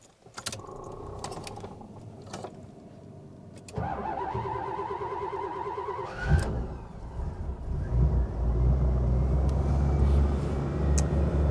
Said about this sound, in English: I'm just gonna pump the gas once and kind of crank it and see what happens.